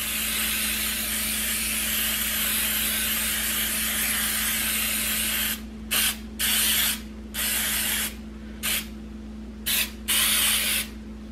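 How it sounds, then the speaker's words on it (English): Cooking spray mixed with a little flour is sprayed into a bundt pan at close range: one long steady hiss, then several short bursts with pauses between them, with no talking. "I'm gonna spray this with cooking spray with a little bit of flour in it so it doesn't stick"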